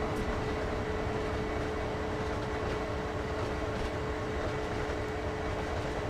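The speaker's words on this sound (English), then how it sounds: "here comes an Amtrak train" An Amtrak train rolls past in the Train Sim World video game, a steady, dense rumble of wheels and engine holding at constant loudness with a faint tonal hum running through it.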